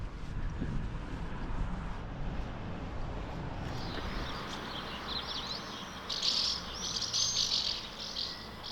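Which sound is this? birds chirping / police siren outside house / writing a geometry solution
birds chirping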